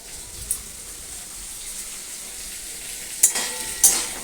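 Potato pieces fry in a pan with a soft, steady sizzle, broken by a few sharp clinks and scrapes of stirring near the end, with no voices.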